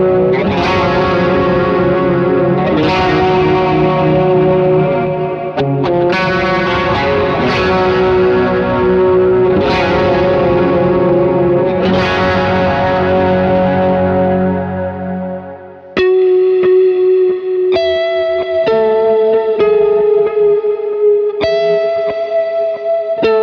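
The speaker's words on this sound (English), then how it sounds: "I use it for chorus and vibrato tones all the time." An electric guitar played through a Strymon Iridium with chorus and vibrato, strummed chords ringing out with a wavering, shimmering tone, then sharper picked chords and single notes, loud and alone without talk.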